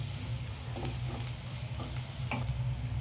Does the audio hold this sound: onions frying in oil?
yes